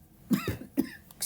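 Two sharp, close coughs about half a second apart, followed by a brief breathy rasp, with no talking.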